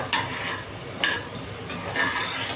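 Dried red chillies, tamarind, pepper, cumin and urad dal fry lightly in a pan for a village-style coconut thuvaiyal, giving a close, busy sizzle with bursts of stirring scrapes and no speech.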